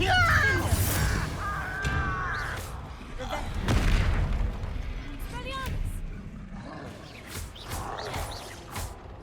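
Spell explosions from the Confringo fire spell in Hogwarts Legacy, several booming blasts mixed with crackling fire effects and game combat noise, with a voice calling out over the action.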